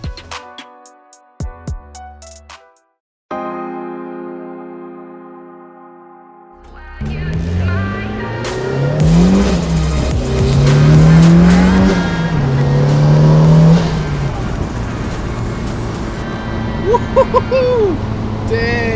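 A turbocharged Mazda Miata with a new exhaust makes a hard test pull, the engine note climbing through the gears with a loud rising rasp and shifts, preceded by quieter clicks and a brief idle.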